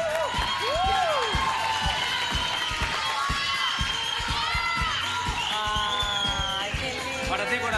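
Studio audience for a Chilean TV variety show clapping and cheering steadily for comedian Cristian Sánchez, a dense, loud wash of applause with whoops and a host's voice over it.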